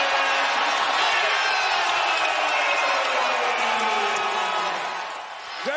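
NBA arena crowd erupting after a Jason Tatum dunk in a Celtics playoff game, loud sustained roaring cheers that swell, then ease slightly at the end, with commentary underneath.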